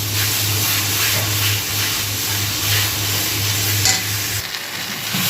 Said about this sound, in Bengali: এবার এটাকে এখন ভালো করে নেড়ে নেড়ে পুরো টানিয়ে ফেলতে হবে